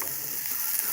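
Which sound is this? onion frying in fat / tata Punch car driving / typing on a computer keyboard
onion frying in fat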